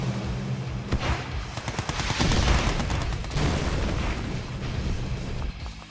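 A warship in the Red Alert 2: Yuri's Revenge strategy game fires its weapons in a dense barrage of booming, crackling gunfire and blasts that rolls on without pause for several seconds.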